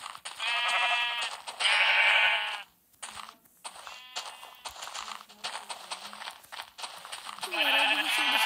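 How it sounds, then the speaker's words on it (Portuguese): Sheep in a survival video game bleat loudly several times in short bursts, close and clear, with small clicks and quiet gaps between the calls. "vou matar essa ovelha aqui"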